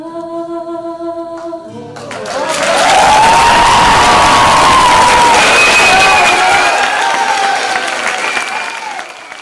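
Following a held sung tone, an audience bursts into loud applause for a singer on stage, with cheering and whoops over dense clapping that stays strong, then eases slightly.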